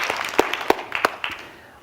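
A small audience gives brief, scattered applause, a few distinct claps rising and then thinning out over under two seconds.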